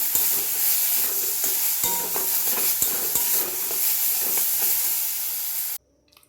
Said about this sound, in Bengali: এবার এইভাবে নাড়তে থাকবো।